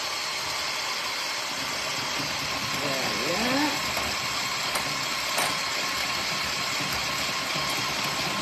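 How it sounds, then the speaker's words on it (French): An electric mixer at high speed whipping egg whites while sugar is added for an Italian meringue, giving a steady, loud whirring hum that runs throughout, with a person talking over it. "on va le mettre donc dans le blanc d'œuf qu'on monte à grande vitesse"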